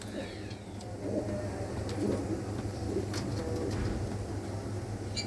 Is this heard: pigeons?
yes